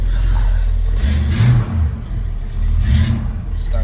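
A 1966 Buick Skylark engine runs close by with a steady low idle, broken by two short revving surges that rise and fall about a second and a half apart.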